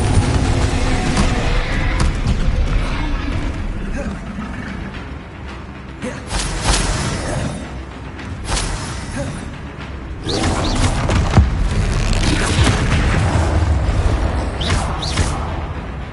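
An explosive Confringo spell blast in the Hogwarts Legacy video game, heard amid continuous loud combat effects with booming, crashing bursts that swell and recede, strongest in the latter half.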